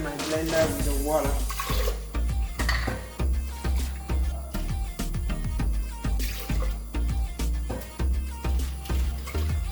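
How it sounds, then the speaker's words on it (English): Water splashes and sloshes inside a blender jar being rinsed out in a kitchen, close and repeated in uneven bursts of swirling and knocking. "and then rinse my blender with the water."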